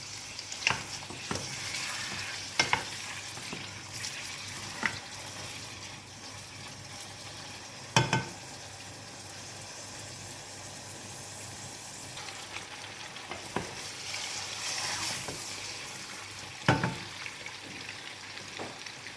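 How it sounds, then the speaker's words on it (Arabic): Half a cleaned chicken breast fries in a pan with a soft, steady sizzle, broken by occasional sharp crackles and pops, quiet and close with no voices. "هنا جبت نص صدر تاع الدجاج راني نظفته نخلوه يتقلى"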